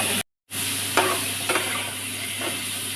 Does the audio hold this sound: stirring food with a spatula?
yes